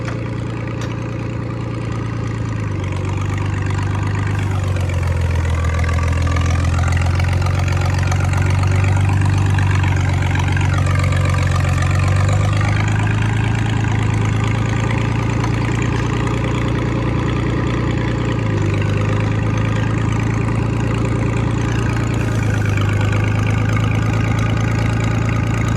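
A Hydra-Mac 8c skid steer's engine runs loud and close, a heavy low drone that rises and falls in pitch as it works and shifts load, continuing steadily throughout without talk.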